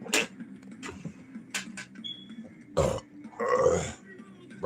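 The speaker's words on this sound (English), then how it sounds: "Burp." A single burp rumbles close to the microphone amid a few other short throat and mouth noises, with soft room background and no talking.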